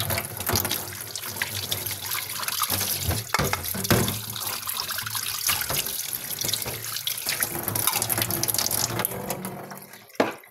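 A tap gushes at full force into a sink, a steady, loud rush of water that runs unbroken for about ten seconds before cutting off near the end.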